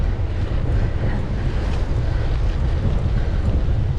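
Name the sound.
wind blowing on the beach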